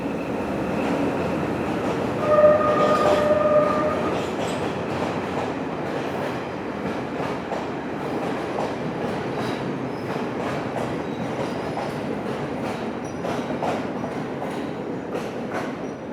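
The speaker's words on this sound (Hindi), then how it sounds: "ये पैसेंजर ट्रेन नहीं है, ये कोई एक टैंकर लगा हुआ था इसमें।" A Sri Lanka Railways freight train with a tanker wagon rolls past near a station on the Colombo to Gampaha line, a steady loud rumble with rhythmic wheel clatter and a brief squeal or horn early on, continuing throughout.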